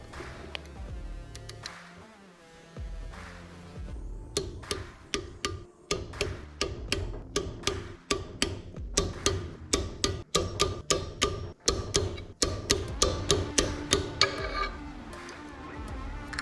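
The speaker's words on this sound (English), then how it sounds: "I can torque the rod bolts to 170 inch-pounds, 20 inch-pounds at a time" A torque wrench tightens the connecting rod bolts on a Predator 212cc engine, giving off a steady series of sharp, close ratcheting clicks. The clicks begin after a short quiet start and repeat in an even rhythm, with no talking.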